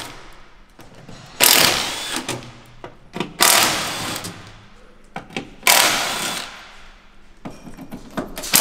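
A power tool spins bolts out of the underside of a McLaren 570S to remove the rear diffuser, in loud whirring bursts separated by clicks and metallic knocks.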